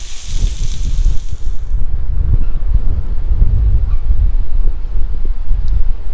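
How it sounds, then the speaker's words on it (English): Strong wind buffets the microphone in a steady, heavy low rumble that roars on without pause, with no voices. "it has been super windy this past few days, and even today it's super windy"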